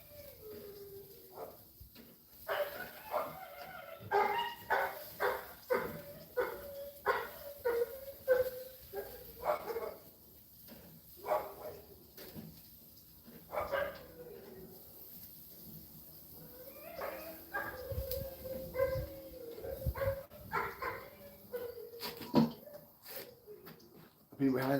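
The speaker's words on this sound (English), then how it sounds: "Neighbors, their dogs get like that and they go nonstop." Neighbors' dogs bark repeatedly in short bursts through much of the stretch, mixed with other animal-like calls and a person talking nearby.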